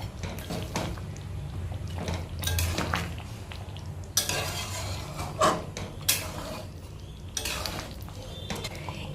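Kasuri methi is stirred into shahi chicken in a pan, with metal spoon scrapes and clinks against the pan over a low background hiss.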